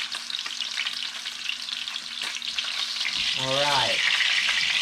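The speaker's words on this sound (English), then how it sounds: "I'll finish searing this and be back with you in a few minutes." A beef roast searing in a hot pan gives off a loud, steady sizzle that holds throughout, with a short spoken remark partway through.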